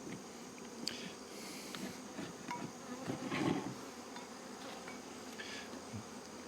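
Honey bees of Golden West and Caucasian stock hum in a bee yard with a steady, faint, continuous buzz, and a few louder passes come close now and then, with no talking.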